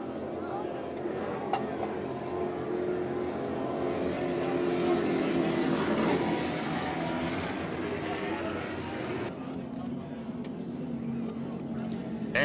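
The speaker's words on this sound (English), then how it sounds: "you can tell Sheds Plus has some new power in that boat. It is extremely loud. Those are Chief engines," Racing powerboat driven by Chief engines, extremely loud, roars past at the Space Coast Grand Prix off Cocoa Beach, a sustained engine drone that swells and shifts over a steady background, with commentary heard throughout.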